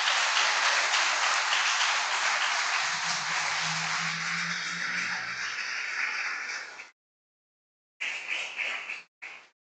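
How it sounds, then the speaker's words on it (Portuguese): Church congregation claps steadily through a sustained round of applause, loud and close, with a low hum beneath, before cutting out and returning in short bursts. "Vamos aplaudir o nome do Senhor Jesus?"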